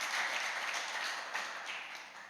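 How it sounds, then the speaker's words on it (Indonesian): A church congregation applauds during a worship service, a dense wash of many hands clapping that fills the space and then tapers slightly near the end. "Kasih tepuk tangan bagi Tuhan"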